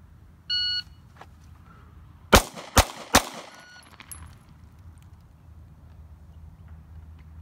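A timer beep followed by three quick pistol shots drawn from the holster during an FBI qualification course of fire, loud, sharp and close, evenly spaced about half a second apart, then quiet range ambience.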